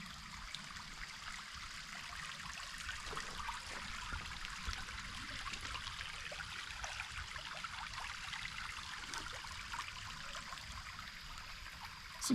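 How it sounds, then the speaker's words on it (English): Shallow creek water flows over rocks near Merrill Creek Reservoir in New Jersey, making a constant, even babble and trickle heard close by without talk. "cool little consistent sounds of the water rolling down here"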